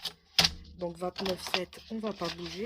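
A single sharp mechanical chop of a blade cutting through paper, followed by a person talking close by.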